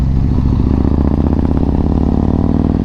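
Yamaha MT-01 motorcycle engine while riding with the engine warning light on and a battery fault, a loud, close, continuous throbbing low rumble with a steady pulse and no voices.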